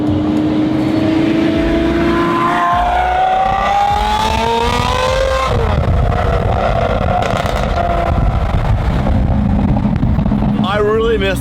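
A Lamborghini Aventador SVJ's engine revs hard in a tunnel, rising and falling in pitch and echoing loudly, with people shouting and talking over it.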